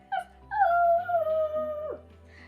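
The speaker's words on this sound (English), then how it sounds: "again the wolves began to howl" Wolves howl at night: a single long, wavering tonal howl glides slowly downward and fades after about a second and a half, clear and fairly close with no voices over it.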